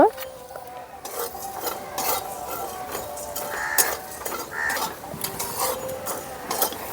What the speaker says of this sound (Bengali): এখন নামানোর আগে দিয়ে দিচ্ছি আমি জোয়ানটা দিয়ে একটু ভাজা ভাজা করে নেব।